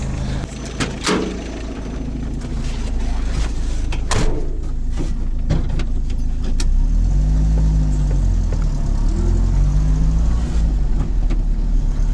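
A car loaded with building materials sets off on a taiga road: a few sharp knocks and clunks at first, then a steady low engine drone with gear-change swells as it drives along.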